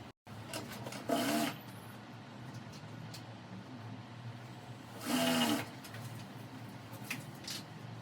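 A sewing machine stitches a straight seam on a blouse lining in two short bursts of motor whirring, each about half a second. The pauses between them are quiet, close and indoors.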